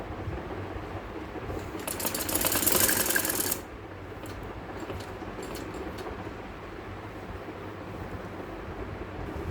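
A sewing machine runs while stitching lace onto a kameez, a steady mechanical whir with a louder, faster burst of stitching in the middle before settling back to a quieter hum.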